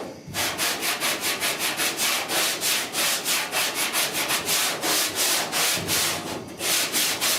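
A sanding block rubs back and forth over body filler on the dash of a 1966 Ford F100 in steady, rapid rasping strokes, about two per second, close and continuous throughout.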